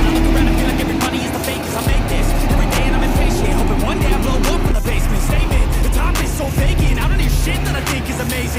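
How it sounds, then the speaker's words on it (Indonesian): Two buses roll together through the Bekasi Timur toll gate, a dense, steady rumble of heavy engines and tyre noise with low droning tones, continuous and fairly loud throughout. "dua bus melaju bersamaan."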